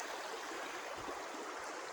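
Water flowing down a creek between steep embankments, a steady broadband rush and gurgle, quiet and continuous with no voices.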